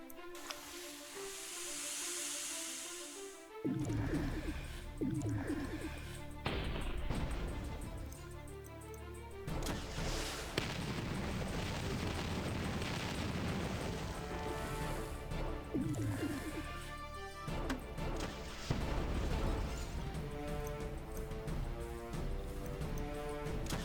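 A dragon attacks with fire from the sky in the Battle Nations game, heard as repeated roaring bursts and crashing impacts with hissing sprays over layered game music, loud and dense for most of the span after a quieter opening.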